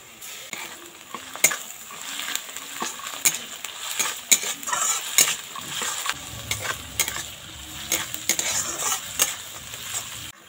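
Chopped onion with ginger garlic paste and green chili fries in a pan with a steady close sizzle, punctuated by repeated scraping stirs of a utensil against the metal.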